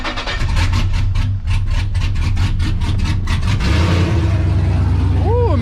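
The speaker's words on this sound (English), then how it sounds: "Now I'm gonna start it, let y'all hear the exhaust real quick." A pickup truck's engine idles through a new exhaust with a deep, steady rumble, joined by sharp clicking bursts early on, with a brief rising tone near the end.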